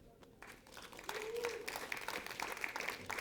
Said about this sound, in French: Vous allez les applaudir.